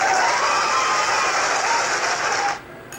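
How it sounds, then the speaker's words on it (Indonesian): Dense burst of hand clapping, loud and steady for about two and a half seconds before cutting off abruptly, with no voices over it. "tepuk tangan dulu"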